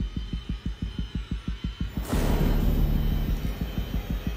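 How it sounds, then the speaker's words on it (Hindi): Heartbeat sound effect from the horror survival video game Alien: Isolation, a steady run of deep, loud thumps at a quick pace, joined partway through by a rising rumbling roar that continues under the beats. "भाई दिल की धड़कनें ऐसे क्यों चल रही है."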